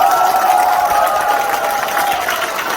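An audience at a Korean book concert greets the host with sustained applause and some cheering. The clapping is loud, dense and steady throughout, with a faint tonal hum sitting under it.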